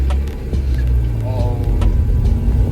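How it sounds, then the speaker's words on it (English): Inside a moving 1992 Mazda Miata fitted with a short shifter, a low engine drone with a faint whining gearbox hum underneath while a person talks over it. "you can hear a little bit of gear noise as well"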